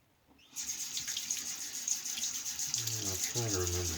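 Tap water runs steadily into a sink as a vintage Penn adjustable safety razor is rinsed, a close continuous splashing flow that starts abruptly and carries on, with a brief voice joining near the end.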